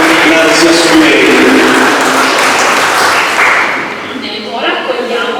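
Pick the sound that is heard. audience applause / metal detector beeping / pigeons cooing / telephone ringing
audience applause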